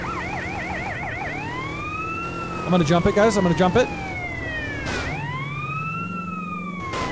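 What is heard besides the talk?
emergency vehicle siren in video game GTA: San Andreas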